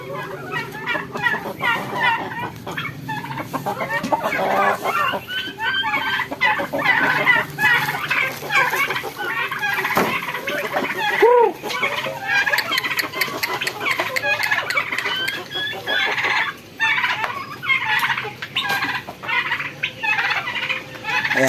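Chickens cluck and squawk continuously at close range while being fed bread, with a few louder calls standing out over a busy, dense flock chatter.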